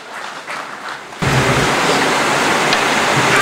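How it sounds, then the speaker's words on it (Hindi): Applause from a mushaira audience in Byculla welcomes a poet. It starts abruptly partway through, then carries on as a loud, dense, even roar of clapping to the end. Quieter crowd murmur comes before it. "पुरजोर तालियों से इस्तकबाल करें"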